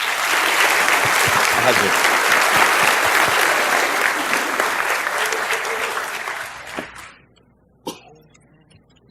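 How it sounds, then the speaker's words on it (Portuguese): An audience at a front-end developer conference applauds a speaker after a UX talk, with loud sustained clapping that fades out after about seven seconds, a voice calling out briefly, and a lone clap near the end. "Uma salva de palmas para Bianca."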